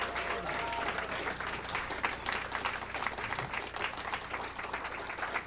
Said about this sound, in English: Please give a hearty round of applause to our speakers, to the ambassador, to all of yourselves for participating today.